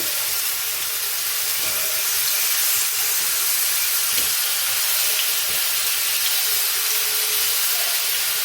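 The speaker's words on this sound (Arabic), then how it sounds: "ابدا بقى انزل بالكرات كده في قلب الزيت بالشكل ده كده" Kofta meatballs frying in hot oil give a steady, loud hiss that runs without a break from start to finish, with no talk over it.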